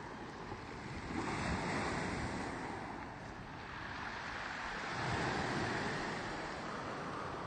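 Small waves wash steadily onto a tiny private beach in Liguria at sunrise, a continuous broadband surf with two swelling surges, mixed with light wind rumble on the microphone and no voices.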